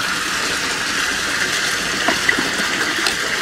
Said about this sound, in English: So you can see the water level in there. I'll let that drain down.